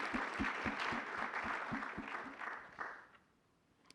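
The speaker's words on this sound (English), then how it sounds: "Round of applause for that." A round of applause from a seated audience at a cannabis industry conference in New York, steady clapping with low thumps that fades out over the last second.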